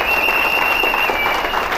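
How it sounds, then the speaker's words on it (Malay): An audience at a business recognition event for an Elken network gives a short, dense round of applause, close and even from start to finish. "tepukan."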